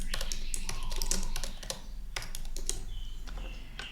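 Rapid clicking keystrokes as a name is typed on a computer keyboard, close and steady with brief pauses.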